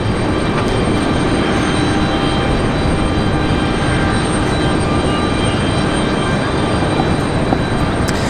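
Large Boeing 747 jet taxiing at Raleigh-Durham airport toward the cargo area, a steady loud broadband engine roar and rumble that stays constant for the whole stretch with no talk.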